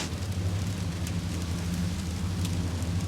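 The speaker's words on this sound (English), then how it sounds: "It's raining quite heavily." Steady, dense heavy rain hiss on a hardtop fishing boat with a constant low rumble underneath, continuous and fairly close.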